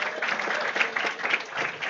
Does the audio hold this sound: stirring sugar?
no